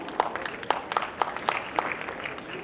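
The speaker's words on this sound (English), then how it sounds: "So a round of applause for our women of Pakistan, please." An audience at the 1st Memon Leadership Conference 2020 in Pakistan gives a round of applause. Individual claps stand out within a steady, moderately loud burst that lasts throughout, with no one speaking.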